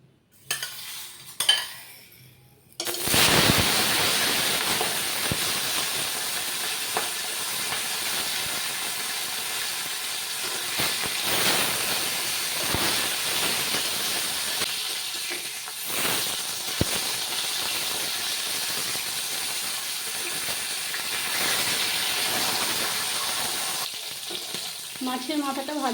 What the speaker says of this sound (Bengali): এবারে মাছের মাথাটা ভেজে নিতে হবে।